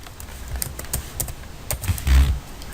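Quick, uneven taps on a computer keyboard, close and fairly loud, with no talking.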